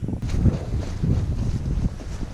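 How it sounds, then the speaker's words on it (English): Strong, blustery wind buffeting a microphone outdoors while pike fishing, a loud, continuous low rumble with gusty swells and no voices. "apologies if the wind is a bit of an issue again today. It is quite strong and blustery"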